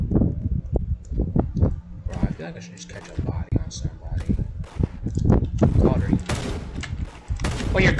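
Rapid video game gunfire during a raid, bursts of sharp shots crackling in quick clusters throughout, with players talking and shouting over the shooting.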